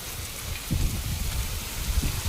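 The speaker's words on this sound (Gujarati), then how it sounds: "જોરદાર વરસાદ છે મિત્રો. ફૂલમ ફૂલ વરસાદ છે." Heavy rain pouring down in a continuous dense hiss with low rumbling spatters, loud and steady throughout with no voices.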